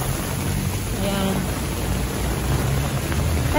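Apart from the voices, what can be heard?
heavy rain from a typhoon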